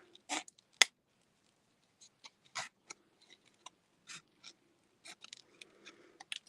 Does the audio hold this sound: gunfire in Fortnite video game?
no